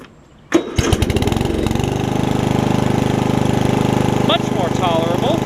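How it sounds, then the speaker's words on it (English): A Murray riding mower's small engine, with exhaust fitted, sputters to life, then settles into a steady, loud mechanical drone with a rapid even chug, running continuously close by. "I'll show you how it runs with the exhaust on it now"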